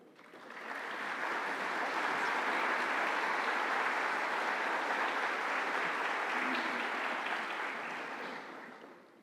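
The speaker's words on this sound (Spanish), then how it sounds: "los recibimos con un aplauso" Sustained audience applause fills a conference hall at a cybersecurity and digital awareness event, starting up, holding steady and dense for several seconds, then tapering off at the end with no talk over it.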